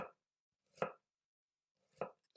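A kitchen knife chopping mushrooms on a board for a vegan mushroom bolognaise, three distinct close taps spaced with pauses between them, fairly quiet and with no speech.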